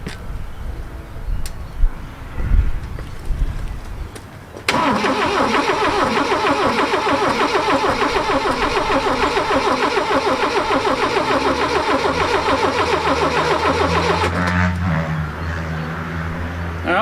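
Car with a freshly swapped engine and automatic transmission cranks briefly, then catches and settles into a steady, loud running idle for about ten seconds before easing down; the sound is close and has no talk over it.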